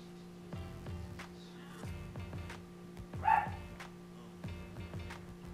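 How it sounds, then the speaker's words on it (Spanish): A small dog barking repeatedly indoors, about seven sharp, moderately distant yaps in an uneven rhythm over a low steady electrical hum. "disculparán al perrito que están ladrando y haciendo ruido"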